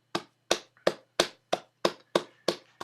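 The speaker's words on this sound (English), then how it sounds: "Just give yourselves a round of applause, everyone who read," A single person claps for an online audience: about nine sharp, evenly spaced claps, close and crisp, with no other sound around them.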